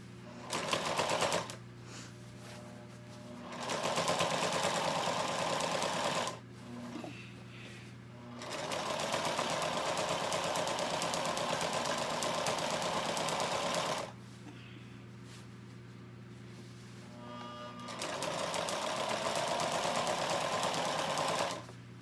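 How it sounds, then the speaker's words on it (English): Sewing machine stitching fabric for a baby nest bed: four loud, close runs of rapid mechanical whirring and needle chatter separated by short quiet pauses, with no voice over it. "and then sew it up"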